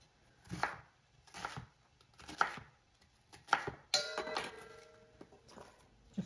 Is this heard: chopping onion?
yes